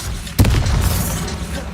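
A Confringo fire spell detonates in Hogwarts Legacy, a single sudden booming blast that hits hard and then leaves a rumbling, crackling tail under ongoing game ambience.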